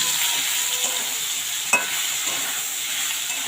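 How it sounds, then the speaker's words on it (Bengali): Taro stolons (kochur loti) fry in a pan over a medium-low gas flame, giving a steady close sizzle with one brief sharp crackle midway and no talking. "তারপরে এটাকে আমি 5 মিনিট ধরে ভাজবো।"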